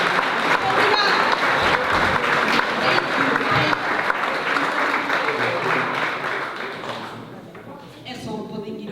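A crowd at a cultural evening celebrating an association's anniversary applauds prize winners with loud, sustained clapping that gradually thins out. A few voices are heard near the end.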